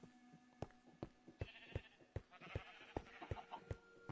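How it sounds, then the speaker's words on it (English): Sheep in a video game farm bleat over a steady run of rhythmic clicks or footsteps, the calls overlapping at moderate volume with no speech. "It's our sheep."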